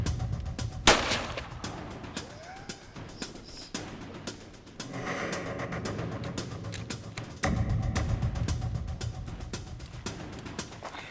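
A single loud rifle shot on an impala hunt on a South African safari cracks out early, followed by outdoor ambience and quiet activity.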